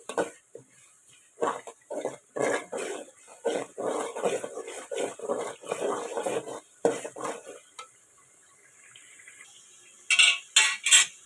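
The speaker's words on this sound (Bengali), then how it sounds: "রোস্ট মশলা আর লবণ দিয়েছি পরিমাণ মতো ভালো করে কষিয়ে নিচ্ছি" Spoon stirring and scraping in a pan as roast spice and salt are sautéed for chicken roast, a series of rhythmic metallic scrapes and clinks in bursts with short pauses, close and clear, no talking.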